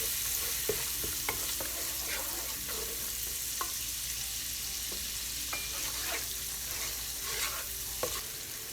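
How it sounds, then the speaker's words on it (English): Masala fries in a pan for Pakistani kabab curry, a constant near sizzle punctuated by frequent spoon stirs and light scraping taps against the pan. "This we're going to let fry for about 3 to 4 minutes"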